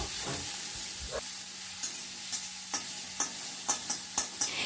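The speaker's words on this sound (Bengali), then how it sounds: "দিয়ে একটু নাড়াচাড়া করে নিচ্ছি একটু ভাজা ভাজা মতো করে নেবো" Grated onion is stirred and fried in a pan, giving a soft continuous sizzle punctuated by a regular series of sharp scraping clicks from the utensil, close by and with no talking.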